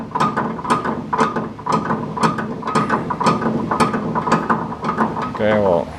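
A Powermatic model 87 metal-cutting bandsaw gives off a steady, rapid mechanical rattle, a rhythmic clattering close to the microphone that continues throughout, with a brief voice near the end.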